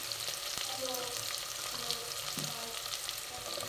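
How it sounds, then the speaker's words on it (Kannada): Potatoes and onions frying in oil for pulao, a quiet, continuous sizzle with light stirring scrapes, heard close with no talk. "ಈಗ ಉಳ್ಳಾಗಡ್ಡಿ ಅದಾಗಿಂದ ಆಲೂಗಡ್ಡೆ ಹಾಕೊಳತ್ತೀನಿ. ಇದು ಸ್ವಲ್ಪ ಫ್ರೈ ಆಗಬೇಕು ಎಣ್ಣೆಯಾಗ."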